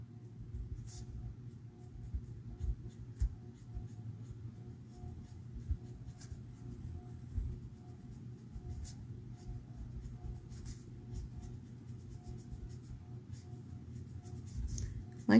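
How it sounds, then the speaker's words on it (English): Pencil sketching over shapes on paper, a faint close scratching that continues steadily throughout with small irregular strokes over a low background hum. "So I'm just sketching like over each one of these."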